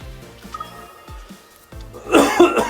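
A person with a lingering cough, otherwise not really sick, gives a few scattered throat sounds that build into a loud, close burst of coughing near the end.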